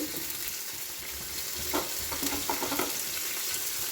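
Chopped ginger and garlic sizzle in hot oil for a Kerala-style red snapper curry while a spoon stirs and scrapes the pan, making a steady frying hiss with a few louder stirring clatters.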